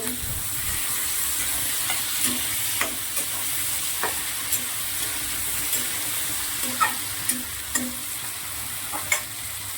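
Tomatoes go into a hot pan and fry, a continuous soft sizzle punctuated by regular sharp spatula taps and scrapes that sound close and fairly loud, with no one speaking.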